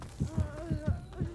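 Heartbeat cue from the Dead by Daylight video game: a steady, muffled double-thump pulse repeating about every half second, with a faint droning tone underneath and no talking.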